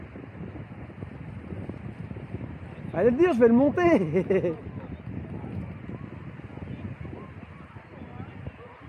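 Steady wind rushing across the microphone at a kite festival at Berck, with a person speaking briefly in French partway through.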